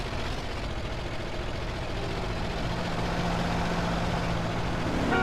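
An old van's engine runs in GTA San Andreas. Its block is held together with a macrame hammock and it burns 15-year-old cooking oil, giving a steady low rumble and drone throughout.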